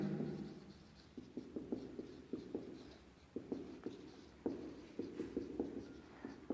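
Pen or marker writing out math working on paper, a quick run of faint, scratchy strokes and taps in short irregular bursts, heard alone without any talk.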